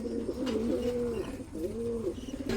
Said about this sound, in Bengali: তো চলে আসছে ফাইনালি এখানে দুই জোড়া কবুতর মাশাল্লাহ